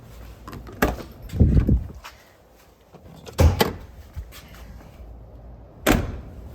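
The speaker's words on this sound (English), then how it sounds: "Did you hear the way that door shut?" Door of a 2002 Ford F250 7.3 Powerstroke pickup being handled: several sharp thuds and clunks with latch clicks, including a firm close near the start and another near the end, close up, no talk.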